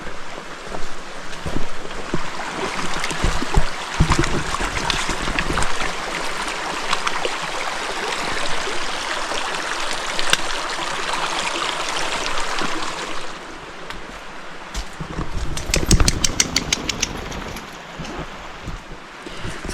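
A stream flowing at a trail crossing on a forest hike, a steady close rush of water with rustling and brief thumps and scrapes of movement nearby, no speech.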